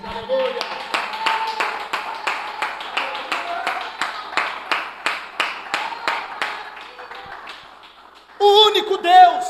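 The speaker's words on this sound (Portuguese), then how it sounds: "E eu convido a igreja a aplaudirmos ao Criador nesta noite." A church congregation claps together in a steady rhythmic beat of roughly twenty claps that fades toward the end, then a loud voice rises up alone.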